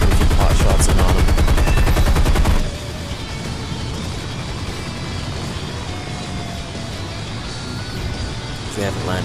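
Gun bursts from a P-40 fighter in the flight combat game War Thunder: a loud, rapid machine-gun rattle for a couple of seconds, then a steady engine and wind roar with no talk.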